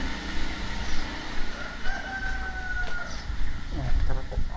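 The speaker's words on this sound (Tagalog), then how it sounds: "Dalawang manok." Two chickens clucking and calling close by, with a drawn-out call in the middle and steady background noise throughout.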